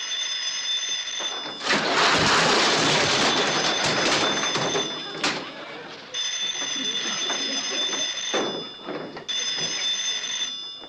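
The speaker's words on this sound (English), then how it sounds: "Phone's ringing, Sam." An old-fashioned telephone bell rings in sustained bursts, fairly loud, interrupted by broad rushing noise and scraping sounds between the rings.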